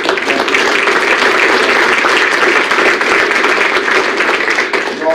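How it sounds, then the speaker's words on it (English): Dense, steady applause from an audience at a university athletics senior awards assembly, a loud wash of clapping that holds for about five seconds and eases slightly at the end. "So I'm going to give you a round of applause."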